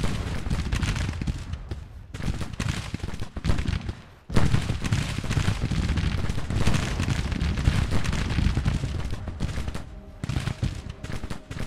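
Cannon and artillery fire in the Grand Tactician game, with dense, rumbling volleys and overlapping booms rolling continuously, dropping briefly before a sharp new barrage.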